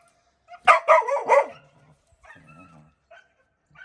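Several dogs, including a Kangal and a Dachshund, bark in a quick burst of three or four loud yaps close by, followed by softer whimpers and yips, with no talking.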